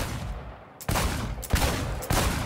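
Several loud, close bursts of gunfire at a Cyberpunk 2077 shooting range, three distinct volleys about half a second apart with brief sustained firing between them.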